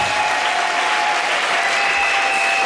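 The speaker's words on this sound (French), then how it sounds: "Est-ce que des adorateurs peuvent venir adorer en acclamant le Seigneur ce matin?" A church congregation applauds and cheers during a Sunday worship service, with dense, steady clapping that fills the room from start to finish, under a faint sustained tone.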